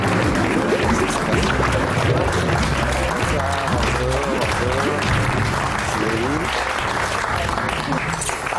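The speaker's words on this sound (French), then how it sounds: "on va accueillir d'un même applaudissement, Monsieur Manu Payet" Studio audience on a French TV talk show bursts into sustained applause welcoming comedian Manu Payet, a dense, steady wash of clapping with some cheering and voices mixed in throughout.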